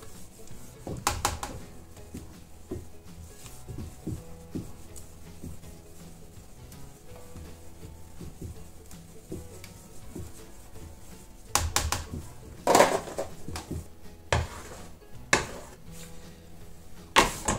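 Crêpe batter mixed with melted butter in a bowl, heard as soft irregular tapping and scraping of a utensil, with louder knocks and clinks toward the end.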